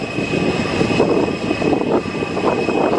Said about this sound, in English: Here we go then, folks, with the EasyJet Airbus A320neo off to Sharm el Sheikh